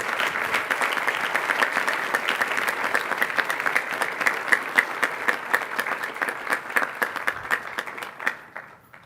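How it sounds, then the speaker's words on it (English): Audience at an eighth-grade class day ceremony giving a round of applause, steady crowd clapping in a hall that thins to a few individual claps and stops near the end. "Let's have another round of applause for Mr. Cooper's advisory."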